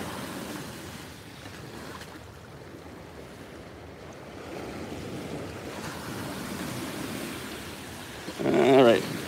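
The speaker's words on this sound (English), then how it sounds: "All right, there's a big wave." A big ocean wave breaks on shore with a long low rush of surf and wind noise. The wash swells near the end as the water surges in close.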